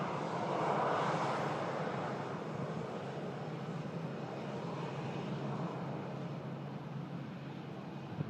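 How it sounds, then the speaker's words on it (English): A British Airways Airbus A319 airliner arriving from London Heathrow, its engine roar loudest early on, then a steady broad rumble lingering through the landing roll, heard alone without talk. "Next aircraft to arrive with us here is going to be a British Airways A319, of course coming up from London Heathrow."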